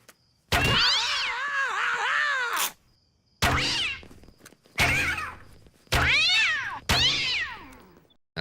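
A cat gives several loud, drawn-out meows close by, one long yowl followed by four shorter cries separated by brief silences.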